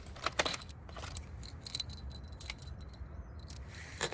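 Metal bolts clink and jangle together in handfuls during assembly of an Outsunny wooden sun lounger, quiet irregular taps and rattles close by with no speech.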